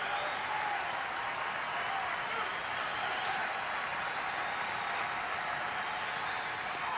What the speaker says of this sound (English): Crowd comes alive for Coleman